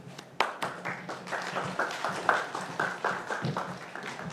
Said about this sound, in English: That was an enthusiastic applause